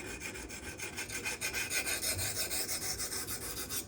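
A Custom Knife Factory Rotten Design Evo 4.0 Damasteel knife blade is drawn quickly across a sharpener to strip tape from the bevel, producing a run of rapid, even rasping strokes, close and loud, with no voices.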